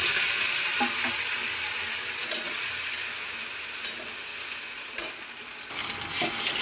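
Ginger paste frying in oil with whole green chillies, bay leaf and panch phoron, a steady close sizzle with occasional stirring scrapes and no talk.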